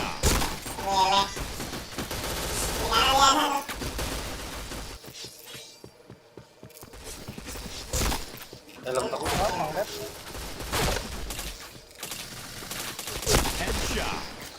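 Rapid gunfire bursts and sharp impact cracks from a shooter video game, loud and close, come in clusters between announcer callouts.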